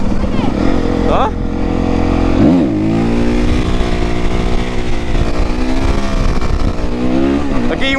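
A Honda CRF450R supermoto engine revs loudly and close, rising and falling in pitch over constant wind rush while riding.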